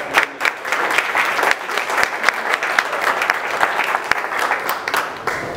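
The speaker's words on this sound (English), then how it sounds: "So I think they all need a round of applause for it." Audience applause at a Meet The Candidate event held in a crab house restaurant, a steady, fairly dense clapping from a modest crowd with a few sharper individual claps, continuing throughout.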